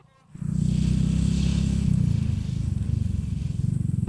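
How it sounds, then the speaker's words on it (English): A motorcycle engine runs steadily while riding through highland roads in northern La Union, with a loud continuous low rumble and wind noise throughout. "with no other sound but the engine of my bike"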